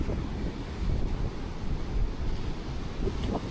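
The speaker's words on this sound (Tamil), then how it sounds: "அலை எப்படி அடிக்குது பாரு." Ocean waves break on a beach in Bali in a steady, loud roar of surf, with gusts of wind buffeting the microphone throughout and no talk.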